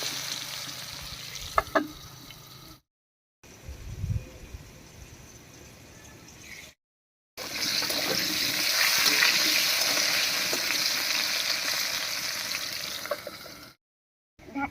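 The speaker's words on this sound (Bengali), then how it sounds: "এবারে ঢাকা দিয়ে দিয়ে আলুটাকে ভাজা ভাজা করে নেব।" Potatoes fry in oil under a lid, giving a muffled hiss that runs in stretches separated by brief silences and swells into a louder, steady sizzle in the middle, with no one talking.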